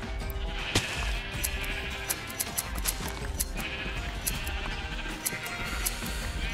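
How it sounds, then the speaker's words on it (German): Sheep bleat repeatedly during shearing in Minecraft with the Industrial Craft 2 mod, many short overlapping calls sounding close over a steady game background with no speech. "Ich geh mal kurz nochmal Schafe scheren."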